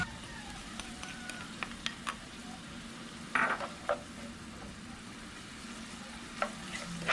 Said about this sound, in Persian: دوباره همراه گوشت پیاز را میگیرم سرخ کنم.